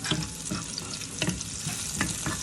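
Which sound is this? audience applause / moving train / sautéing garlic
sautéing garlic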